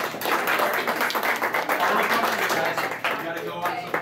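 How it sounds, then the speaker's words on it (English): Crowd at an anime convention game show applauding, a burst of mixed clapping and cheering that holds steady then softens, with some voices mixed in. "Indian Ocean's right. Give a round of applause,"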